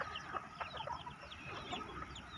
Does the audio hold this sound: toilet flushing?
no